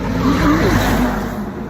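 Car traffic on a rural road in Transylvania near Brancovenesti, heard as a loud, close rush of a vehicle swelling and fading as it goes by.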